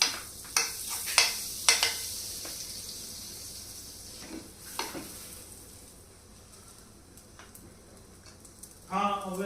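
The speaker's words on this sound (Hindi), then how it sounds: "तवे पर हम डालेंगे थोड़ा सा बटर" Butter sizzles on a tawa while pav is toasted for dinner in a home kitchen. A soft frying hiss runs under a few sharp clinks and scrapes, then a short burst of running water comes at the end.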